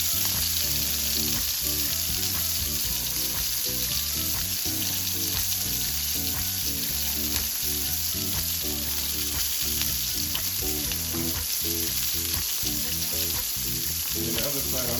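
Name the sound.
searing jerk mango sea bass in pan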